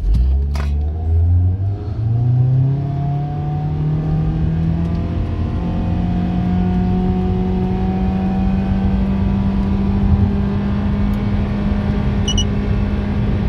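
A Mitsubishi Lancer 10 with a 1.8 engine and CVT accelerates hard from a standstill to 100 km/h, its engine note climbing at first and then holding a loud, steady drone for many seconds, heard from inside the car.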